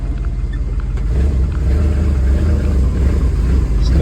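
A truck's engine running during a service day for an ice-cream truck: a loud, close, steady rumble that builds slightly as the engine is revved, with no talk.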